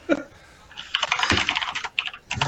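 Loud, quick typing on a computer keyboard at a desk, close and clattering in uneven bursts with short pauses between them.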